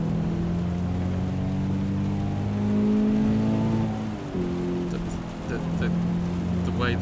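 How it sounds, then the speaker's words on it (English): A car driven on a wet track in the racing game Assetto Corsa EVO, with a steady droning engine tone that shifts in pitch as it accelerates and changes gear, over a constant hiss of spray and rain noise. "when you're driving on a wet track like this"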